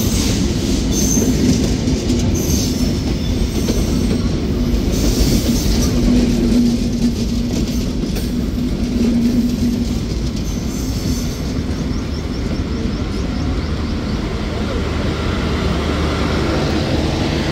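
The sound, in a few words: Benapole Express train pulled by American 6600-series locomotive 6624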